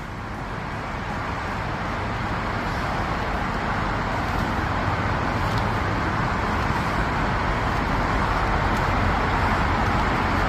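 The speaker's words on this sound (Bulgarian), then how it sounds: "Този шум е от колите, които минават по Lakeshore Drive." Steady roar of cars passing on Lakeshore Drive in Chicago, a continuous broadband road hum with low rumble and no gaps, fairly loud and constant throughout with no talking.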